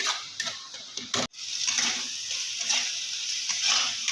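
Onion-garlic masala sizzles in hot oil in a pan while a spoon stirs and scrapes it, a steady close crackle with a brief drop near the start and no talk.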